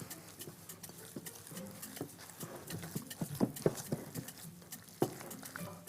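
Minced meat and basil are mixed and squeezed by hand, giving soft, wet, irregular squelching pats close by and fairly faint.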